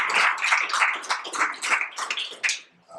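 Audience clapping at an institutional presentation, a steady patter of hands in a moderate-sized room with no voices, thinning out and dropping away near the end.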